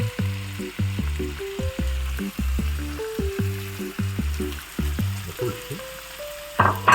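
Mushrooms fry in a pan for a chicken béchamel dish, giving a lively crackling sizzle with repeated bursts, close and fairly loud, as if stirred.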